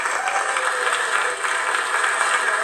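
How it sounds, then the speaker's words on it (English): Audience applause at a civic event announcing a deal, a dense steady wash of many hands clapping throughout, moderately loud and without speech. "So a big round of applause."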